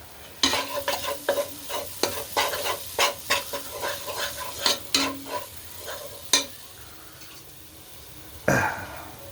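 Beef hits hot spiced oil in a pan and fries, with repeated scraping stirs and clanks of a spoon over a soft sizzle, the strokes coming in irregular bursts before a pause and one last stir.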